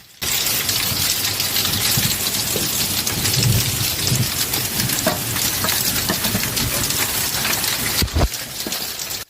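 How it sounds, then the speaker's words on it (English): Dense, steady drumming of ping-pong-ball-sized hail clattering on metal rooftops in Tallahassee, Florida, continuous and loud, with a brief dip near the end. "hail bouncing off metal rooftops and piling in gutters"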